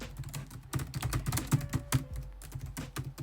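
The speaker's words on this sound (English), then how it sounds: "I type fast." Fast typing on a computer keyboard, a quick irregular run of sharp clicks and clacks recorded close and fairly quietly, with no talking.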